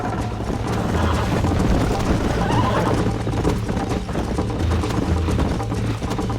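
A galloping horse in Red Dead Redemption, close hoofbeats pounding in a fast steady rhythm with an occasional whinny, set against swelling game music and wind.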